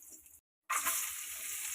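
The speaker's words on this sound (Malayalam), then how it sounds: "എന്നിട്ട് നമുക്ക് ഇതേ നെയ്യിൽ തന്നെ കിസ്മിസ് ഇട്ടൊന്ന് വറുത്ത് മാറ്റി വയ്ക്കാം" Raisins fry in ghee with a bright, hissing sizzle; the sound cuts out briefly, then returns louder and holds steady.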